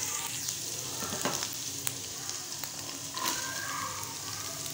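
Finely chopped carrots fry with garlic in a pan, making a steady close sizzle with occasional spatula taps and scrapes against the metal, and no voices.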